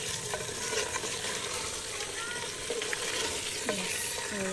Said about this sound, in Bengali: আস্তে আস্তে নাড়াচাড়া করে দিচ্ছি